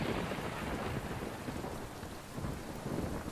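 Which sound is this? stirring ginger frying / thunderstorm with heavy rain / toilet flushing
thunderstorm with heavy rain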